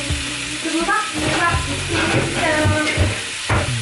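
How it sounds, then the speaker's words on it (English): A clam dish bubbling and sizzling steadily in a covered pot on medium heat, a continuous close, fairly loud frying hiss with scattered pops and light tonal clinks throughout. "I'm gonna let this simmer down on medium heat"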